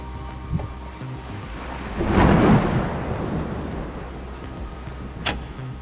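A stormy night brings a deep, rolling rumble of thunder that swells for a couple of seconds and slowly fades over a low background, with a sharp crackle later, no voices.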